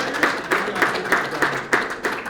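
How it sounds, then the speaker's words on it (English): Applause at a police badge pinning ceremony for newly promoted captains, a small audience clapping in an even, rhythmic beat, close and moderately loud, with no talk over it. "Give them a round of applause."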